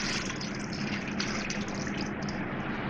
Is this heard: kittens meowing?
no